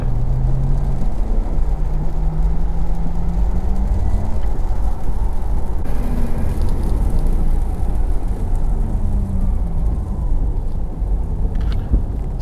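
Heard from inside the cabin, a Porsche Taycan electric car accelerates hard in Sport Plus mode on a wet road in the rain. A rising electric motor whine repeats over a constant loud roar of tyres, road and rain.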